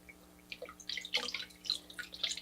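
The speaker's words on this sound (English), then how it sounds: "let's soak my little towel" A small cleansing towel is soaked in warm water in a sink, with close, irregular dripping and light splashing that comes in little bursts over a couple of seconds.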